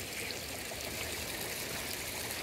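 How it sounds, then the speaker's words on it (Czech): Hot spring water flows out of rock at natural hot springs, a steady, faint, continuous trickling and streaming with no voices. "A tamhle to vytejká ze skály horký, kde se to ředí."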